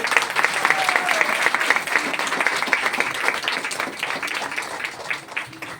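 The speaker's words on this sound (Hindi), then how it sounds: "थोड़ा और तालियां जरा जोर से होना चाहिए" Dense, steady applause from an audience at a women's wellness event, continuous hand clapping with a few faint voices in the crowd throughout.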